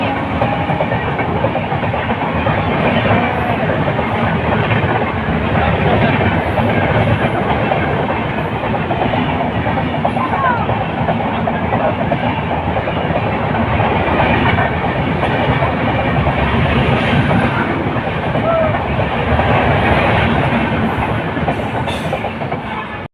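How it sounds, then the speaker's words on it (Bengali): A passenger train rolls into a station at a festival time, a loud, continuous rumble with rhythmic clickety-clack of wheels over rail joints lasting throughout, close by and steady. "ওই যে ট্রেন ঢুকছে দেখতে পাচ্ছ"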